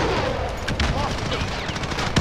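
Rapid gunfire shots crackle in a dense burst over loud background noise, close and continuous, with one sharp crack near the end and someone talking underneath.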